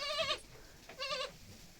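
Two high, quavering kid-goat bleats, separated by a short pause, fairly close and clear over quiet background.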